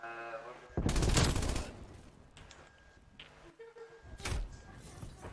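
Bursts of automatic gunfire in a Call of Duty Cold War multiplayer match on the Moscow map, one long loud volley near the start and another burst toward the end, with scattered smaller shots and game noise between.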